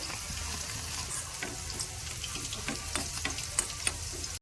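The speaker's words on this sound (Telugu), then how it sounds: "ముందు నేను జీలకర్ర వేపుకుంటున్నా." Cumin seeds frying in a pan for a fish curry, a quiet, crackling sizzle with faint stirring clicks, close but soft and unbroken by speech.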